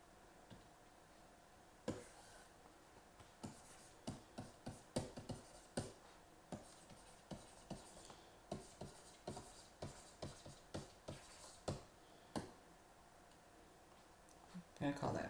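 A pen or marker writes notes in a reinforced concrete design lecture, making a series of short, sharp tapping and scratching strokes at an irregular pace, moderately close and quiet, with faint speech in the background.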